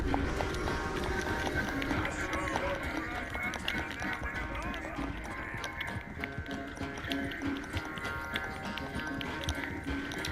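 Rapid, steady horse hoofbeats while riding in Red Dead Redemption 2, a continuous galloping clatter mixed with game music and ambience, with someone talking over it.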